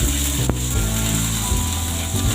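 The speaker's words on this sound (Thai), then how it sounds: "เราใช้น้ำมันที่เหลือผัดตัวสามเกลือเลยนะคะ" Garlic, coriander root and pepper paste stir-fried in leftover frying oil, a steady close sizzle with scraping and clicking of a utensil against the pan, one sharp knock near the start.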